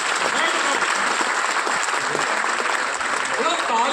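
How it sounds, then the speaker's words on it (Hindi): Applause from a seminar audience in a hall, a dense steady wash of many hands clapping throughout with a faint voice underneath. "तालियां बजा लीजिए"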